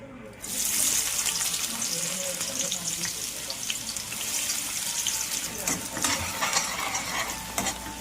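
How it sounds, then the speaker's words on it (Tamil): Onions sauté in hot oil for an egg masala, giving a steady crackling sizzle with intermittent scraping stirs, loud and close throughout. "வெங்காயம் நல்லா வதக்கினா தான் நல்லாயிருக்கும்"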